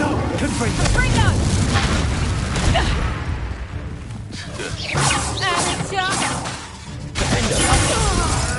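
Confringo blasting curse explosions from the Hogwarts Legacy video game: repeated loud booms and crashes amid spell-battle clamor, with voices in the mix.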